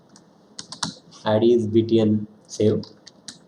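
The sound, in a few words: typing on a computer keyboard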